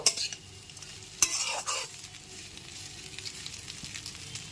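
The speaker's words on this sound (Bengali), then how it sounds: "এবার ওপর থেকে নিচে খুব ভালো মতো সময়টা নেড়ে নেব" Vermicelli for zorda semai is turned over in a hot pan, with a sharp utensil knock, then scraping strokes over a soft, continuous sizzle close by.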